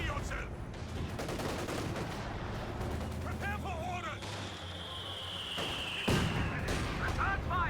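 Mortar and artillery fire in the Company of Heroes 2 strategy game, with a cluster of sharp impacts and bursts, some close together, while a voice talks over the battle and a rising whistle streaks across the middle.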